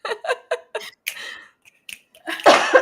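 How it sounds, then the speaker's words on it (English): A run of short, sharp coughs in quick succession, close and loud, followed by a harsher, rougher cough burst at the end. "Excuse me for my coughing."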